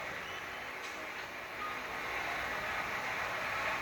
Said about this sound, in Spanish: Se escuchan los carros.